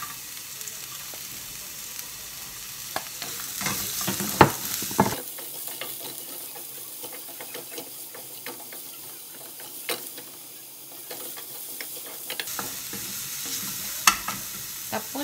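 Garlic and onion sauté in a hot pan while being stirred, a steady sizzle with clinks and scrapes of the utensil against the pan throughout, the sizzling briefly quieter in the middle before picking up again.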